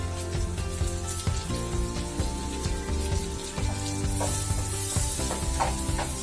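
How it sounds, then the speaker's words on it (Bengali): Yellow sweet onions frying in butter with carrots in a pan, a steady close sizzle with soft crackle and occasional stirring scrapes, no talk. "ক্যারটসটা ভাজা হয়ে গেছে, এরপরে এর মধ্যে আমরা দিয়ে দেবো অনিয়নস গুলো"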